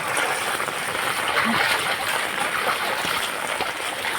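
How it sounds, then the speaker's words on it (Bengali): Floodwater on a flooded street rushing down through a hole into a drain, a continuous close gush and splash of running water throughout. "দেখো জল নামছে কিরম ড্রেনে, ড্রেনের জল এই গর্ত দিয়ে কিরম নামছে।"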